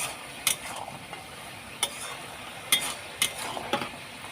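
Spatula or spoon stirring vegetables and spices for a Bengali labra in a pan, giving a few sparse, faint scraping clicks over a low steady background, with no talk.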